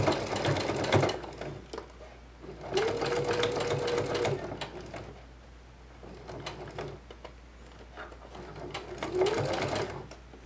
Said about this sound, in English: So I'm gonna go ahead and sew this.